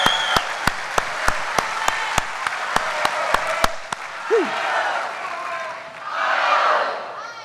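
Crisp, evenly spaced claps ring out in a steady beat at a moose lodge convention session, then give way to a murmuring hall crowd with a brief whoop.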